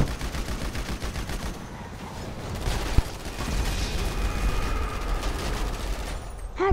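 Rapid bursts of gunfire from Grand Theft Auto V, with a fast rattle of shots and one sharp loud crack partway through, heard alone against a busy game background.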